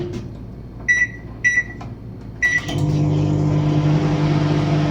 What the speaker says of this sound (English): so it needs to go into the microwave for a good 45 seconds